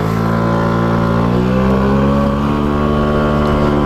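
A loud motorcycle engine drones close by at full throttle, its steady harmonic whine rising slightly as it revs, with no talking.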